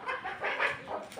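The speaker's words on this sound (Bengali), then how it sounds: "দেখুন মুরগি আছে।" Chickens cluck in short irregular bursts close by on a Bengali home farm where ducks are also kept, with no talk over them.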